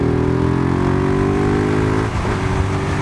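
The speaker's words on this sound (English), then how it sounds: "It's a strong rumble, but it's not really obnoxious. It's low, it's grunty." A 2019 Husqvarna 701 SuperMoto motorcycle engine rumbles low and grunty at steady revs, loud and close, then the pitch dips and shifts briefly near the end, with no talking over it.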